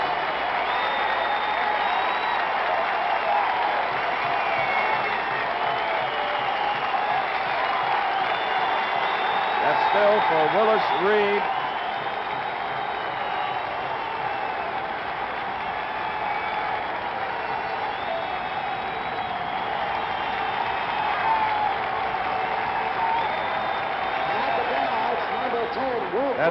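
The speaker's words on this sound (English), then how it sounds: "That's the type of applause that has been reserved for boxers like Sugar Ray Robinson in the old garden" Crowd in a basketball arena at Madison Square Garden applauds and cheers in a sustained, dense roar, with an announcer talking over it throughout.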